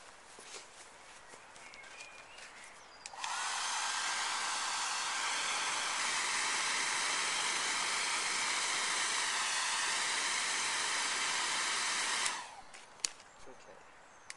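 Forge roaring steadily while a crook knife blade heats, a loud broadband blast that starts abruptly, holds level for about nine seconds, then cuts off, with quieter workshop ambience before and after.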